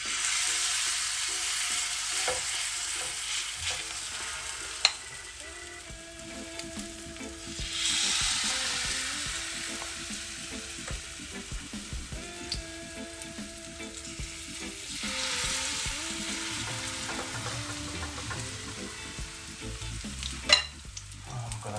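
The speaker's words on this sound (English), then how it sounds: "Gonna let these fry on both sides, get them golden brown." Saltfish, vegetable and banana fritters fry in butter and oil in a pan over a low flame, a continuous close sizzle with faint crackles and occasional clinks, swelling at moments, with no talking.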